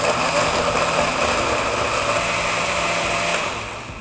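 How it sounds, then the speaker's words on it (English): A blender whirs steadily at high speed, loud and close, blending a spiced sauce with chipotle powder, then winds down slightly at the end. "All right, so now we're gonna blend this."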